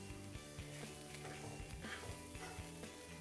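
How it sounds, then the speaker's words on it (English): Chopped shallots sauté in a pan used for searing filet mignon, giving a steady, soft sizzle that runs without a break and is fairly quiet throughout. "I'm gonna go ahead and add in a couple tablespoons of chopped shallot, and I just wanna let those saute down"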